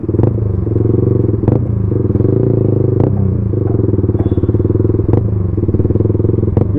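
A Yamaha R15M motorcycle fitted with a full-system Yoshimura exhaust revving loudly and close, its raspy engine note rising and falling with sharp blips and crackles while riding.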